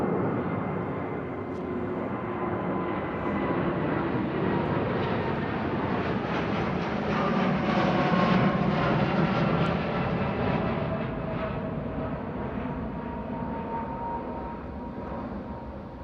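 A jet airliner departs Heathrow with a continuous, far-off engine roar that swells gently and then fades, a thin whistling tone running through the broad rumble.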